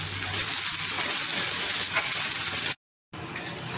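Rice and lentils for dal frying in a pan, a steady close sizzle and hiss running unbroken, then cutting out briefly before resuming.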